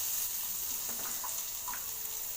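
Onion and mustard seeds frying in hot oil for a South Indian lemon-rice style dish, giving a steady close sizzle with a few soft crackles and stirring sounds, no voices.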